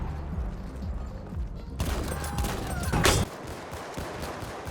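Hunter trench gun shotgun fired in Battlefield 1, a few loud, close bursts of gunfire with a sharp blast near the end before the clip quiets into ambient noise.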